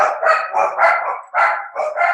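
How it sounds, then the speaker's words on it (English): Several dogs bark close by in a house, a rapid run of loud overlapping barks and yaps with barely any pause between them. "there's a lot of dogs"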